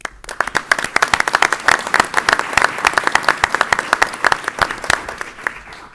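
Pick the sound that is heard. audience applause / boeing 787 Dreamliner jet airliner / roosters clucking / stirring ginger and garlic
audience applause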